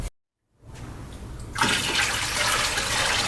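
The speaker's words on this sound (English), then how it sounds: "I'm adding the water into the small bucket, and the small bucket's then overflowing slowly into the tank" Water pours into a small bucket and overflows into a reef aquarium tank with coarse sand, a steady rushing splash that swells louder partway through after a brief silence.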